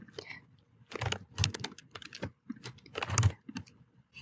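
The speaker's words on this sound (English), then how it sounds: "I can start typing immediately to give them a label as well" Quick bursts of typing on a computer keyboard, with clustered clicky keystrokes separated by short pauses, recorded close and clear with no talking.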